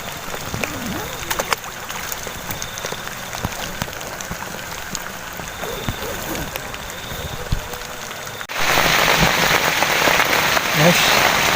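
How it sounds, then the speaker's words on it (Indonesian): Heavy rain with thunder falls outside a campsite at a reservoir, a steady hiss and patter that grows louder and denser partway through, heard from under shelter. "di luar hujan besar guys, hujan geluduk."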